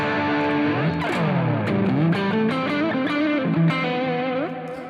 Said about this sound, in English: So you've been hearing the SL68 amplifier.